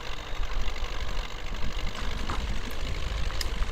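MTZ 82.1 tractor engine in Spintires: Mudrunner, a steady low, rough diesel drone with a knocking, uneven texture, running continuously without speech.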